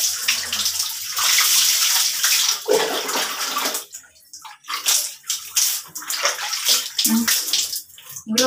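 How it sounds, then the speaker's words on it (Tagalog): Water pours and splashes steadily as someone rinses off while bathing, a loud close rush that breaks into irregular splashes and sloshing in the second half. "So, magbabanlaw na ako."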